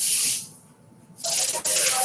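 An aerosol cleaning spray hisses in two loud, close bursts: a first spray fades out, then after a short quiet gap a second sharp blast starts with a brief click or clunk partway through.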